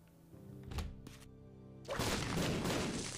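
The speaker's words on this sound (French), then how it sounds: "Oh non, des explosions, que vais-je faire?" Explosions in The Binding of Isaac: Repentance, a couple of sharp thumping blasts followed by a louder, sustained booming crash.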